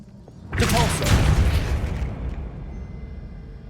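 A Depulso spell is cast in Hogwarts Legacy: a sudden loud burst lands about half a second in, followed by a rumbling crash that slowly fades out over several seconds.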